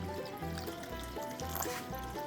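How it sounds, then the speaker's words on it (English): Water poured over gold concentrate trickles and dribbles softly and close, a faint running flow with light gurgles, over a low repeating background hum. "we gotta get it wet because that's probably not enough water"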